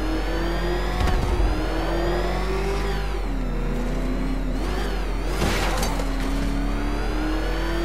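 A car engine in the Arkham Knight video game revs and accelerates loudly and continuously, its pitch rising and falling through gear changes, with a low steady rumble underneath.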